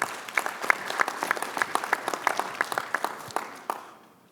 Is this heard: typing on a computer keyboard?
no